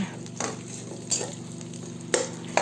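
White onion cooks in a pan as toppings for pork chops, with a soft steady sizzle under a few sharp scrapes and taps of a utensil against the pan, close and fairly quiet.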